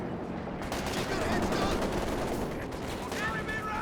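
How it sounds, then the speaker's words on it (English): MG34 machine gun fire in the strategy video game Company of Heroes 2, a dense continuous rattle of gunfire mixed with battlefield noise, steady and moderately loud throughout. "A bit of suppression coming in from the MG34 as well."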